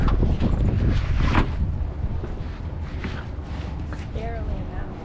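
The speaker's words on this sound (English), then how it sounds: "Beautiful day, windy," Strong outdoor wind buffets the microphone in loud, continuous gusts, with a brief faint voice near the end.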